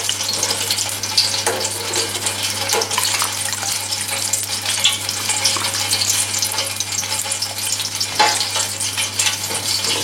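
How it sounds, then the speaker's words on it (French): Pastries for a Tunisian Ramadan iftar bubble and crackle in hot oil, a loud, dense, steady frying hiss with a low hum beneath and occasional spoon sounds, no talking. "pendant qu'ils sont en train de frire"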